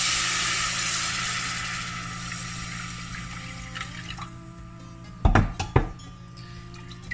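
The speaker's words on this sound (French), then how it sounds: "je vais ajouter aussi 200 ml d'eau" Water, about 200 ml, is poured into a mixture for a Turkish recipe, a steady broadband rush that fades out and is followed by a couple of sharp clinks of dishes or utensils.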